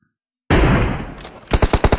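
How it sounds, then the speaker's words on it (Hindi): Gunfire in a video game on the Karakin map: a loud burst of rapid automatic fire after a moment of silence, followed by several quick, evenly spaced shots. "गोली की आवाज"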